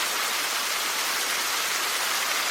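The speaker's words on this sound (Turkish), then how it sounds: "It is raining heavily." Heavy rain falls steadily in The Bathhouse horror video game, a constant dense hiss with no breaks or talk over it.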